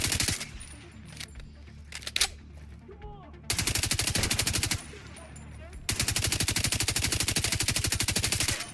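Rapid automatic assault rifle fire in The Division 2, a faint shot or two followed by two long sustained bursts of loud, rattling gunfire with a brief pause between them.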